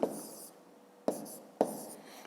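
Numbers are handwritten in a math exercise, a pen scratching across paper in three short bursts, each starting with a tap, close and quiet.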